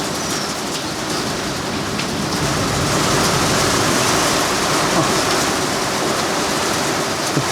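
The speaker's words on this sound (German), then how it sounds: "Ich glaube, dass wir jetzt genau in der Mitte vom Gewitter sind." Heavy thunderstorm rain pounding on a shelter hut, a dense, loud, continuous roar of downpour that swells slightly in the middle, with no voices.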